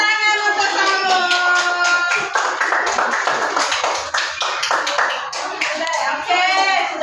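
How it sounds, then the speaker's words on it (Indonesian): A class of schoolchildren claps together in an elementary classroom, with a dense burst of applause lasting several seconds, close and loud. Children's voices mix in around the clapping. "tepuk tangan untuk Salon."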